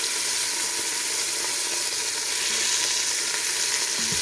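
A chuck roast sears on its sides in a Ninja Foodi pressure cooker, giving a loud, dense, unbroken sizzle with faint scraping and shifting beneath it, close by.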